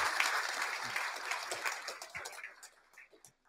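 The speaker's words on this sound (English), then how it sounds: "Let's give him a big round of applause for making time." Applause from an audience at a live-streamed corporate announcement event, a steady patter of clapping that thins out and fades toward the end, moderately distant.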